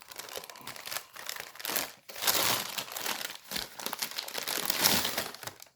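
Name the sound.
crinkling of small sweet packets felt through a parcel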